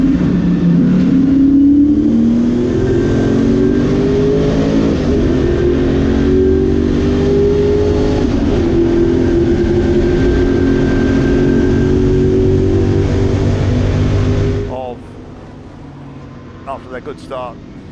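Lotus Cortina race cars at Silverstone Classic roar past up toward Luffield, engines revving loudly with rising and falling pitch as they accelerate, while commentary talks over them; the engine noise cuts away abruptly near the end.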